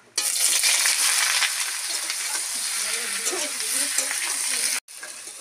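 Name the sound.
jackfruit and potato frying in hot oil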